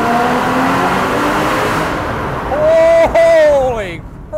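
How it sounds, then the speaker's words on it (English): A 2021 Porsche 718 Spyder with its exhaust open revs hard inside a tunnel, its engine note rising and falling in loud, echoing sweeps, with a brief gap between two strong pulls. "Tunnel test. Exhaust is open."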